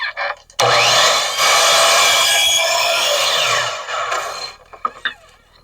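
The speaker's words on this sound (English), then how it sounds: "We're going to swing our miter 45 degrees in because it's an inside cut. And then we're going to make our cut." A miter saw makes an inside cut in crown molding: a loud, close motor whine spins up, bites through the wood for about three seconds, then winds down, followed by small handling clicks.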